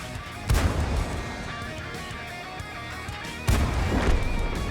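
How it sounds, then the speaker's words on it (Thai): Two heavy tank cannon shots boom in World of Tanks, each a loud broadband blast with a rumbling tail, spaced about three seconds apart over steady engine and battle ambience. "ยิงเข้าไปที่แท็กด้านหลัง แท็กหน้านะ แท็กหลังอีกทีหนึ่ง"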